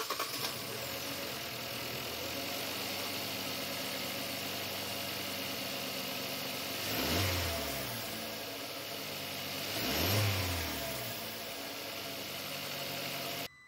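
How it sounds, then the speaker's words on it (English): A Hyundai Accent's engine idling steadily nearby, swelling twice into short revs before settling back to a low hum. "So let's go ahead, start her up."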